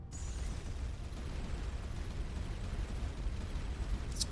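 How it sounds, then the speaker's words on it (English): Five ship turrets firing in Starcom: Nexus make a steady, rumbling barrage of low booming bursts that runs continuously at moderate loudness, with no talk over it. "It's 5 turrets firing."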